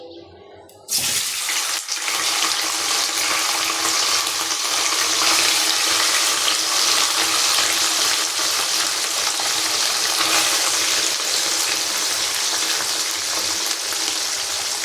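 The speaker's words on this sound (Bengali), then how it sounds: "এখন এটা ভাজতে দিতে হবে। তো এখন এটাকে আমি একটু লাল লাল করে ভেজে নেব।" Boiled, cut vegetable pieces frying in oil for a vegetable biryani, a loud continuous sizzle that starts abruptly after a brief quiet moment and holds steady throughout, close up and without talk.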